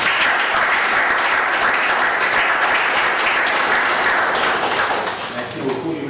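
A church conference audience applauds loudly and continuously, dense clapping filling the whole stretch and easing slightly toward the end.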